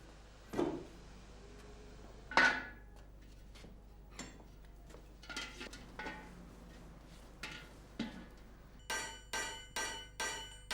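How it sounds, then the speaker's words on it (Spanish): Copper sheet hammered by hand to shape a pot, sharp metallic strikes landing singly and irregularly at first, then a quick, even run of five ringing blows near the end, close up with no talk. "con este martilleo continuo y uniforme, el calderero consigue dar consistencia a la chapa"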